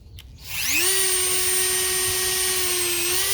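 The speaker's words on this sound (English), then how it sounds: "So let's get the Dremel out." A Dremel rotary tool spins up and holds a loud, steady high-pitched whine while cutting during a Honda Accord to CRX climate control swap, with no talk over it.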